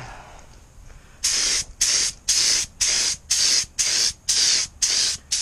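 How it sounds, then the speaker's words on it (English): Spray gun painting Yamaha Virago motorcycle parts for a cafe racer build, heard as eight close, loud hissing bursts of roughly half a second each in a steady back-and-forth rhythm after a quiet start. "you want to do just quick motions back and forth, similar to as if you were spraying with a spray can"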